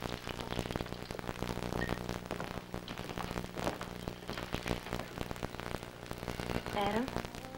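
A Polynesian rainmaker shaken to imitate rainfall gives a dense, steady patter like rain on a surface, continuing for several seconds with faint tonal sounds beneath.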